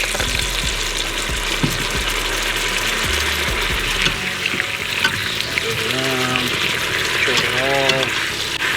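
Beef broth hits a hot pan during deglazing in wild hog pulled pork cooking, giving a loud, steady sizzle with bubbling and stirring scrapes throughout, close by, while a voice speaks over it.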